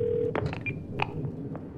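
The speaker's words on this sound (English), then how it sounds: "I'm gonna make a phone call." A phone number is dialed in the video game 12 Minutes: a steady tone cuts off, then a handful of short, separate keypad beeps follow at an uneven pace, close and clear with no talking.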